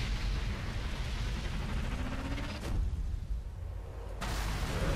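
A loud, rumbling explosive blast as a sniper shot destroys a tank in the video game Sniper Elite 3, followed by a sharp cutoff and another burst of heavy, booming noise.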